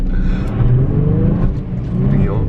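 Drift car spinning out under clutch and handbrake during one-on-one drift training at a track: a loud, steady engine roar with wavering revs fills the whole stretch, close and continuous, with no talk over it.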